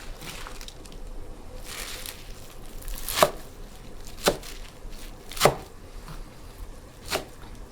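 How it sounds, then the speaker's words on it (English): A knife chops herbs and greens for Persian ash reshteh, herb and noodle soup, on a board. Four sharp, separate chops come at irregular intervals over a quiet, faintly rustling background. "I'm gonna chop the rest of the greens"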